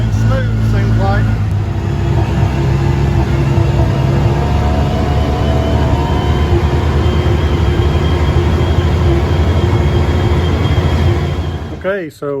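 A 2008 Polaris Ranger utility vehicle, just repaired with a new fuel pump, drives steadily on a test run, its engine droning loud and constant with rumbling road noise throughout and a brief clunk at the very end.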